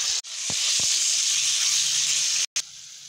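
Shredded chicken dropped into hot oil in a pan, giving a loud, steady, close sizzling hiss that runs almost unbroken, with a brief cut and a few soft knocks.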